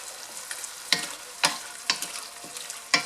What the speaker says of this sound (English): to add the shrimp in there so that it could saute a little bit